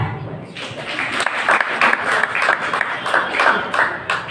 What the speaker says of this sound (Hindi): पहले तो बता दीजिए कुणाल के लिए तालियां